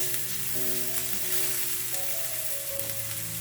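Crushed garlic and curry leaves sizzle in hot oil while being stirred, a loud, continuous frying crackle close up with faint scrapes of the stirring and no speech.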